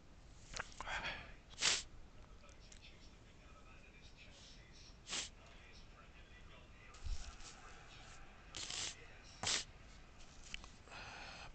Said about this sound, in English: Apologies for the sniffles.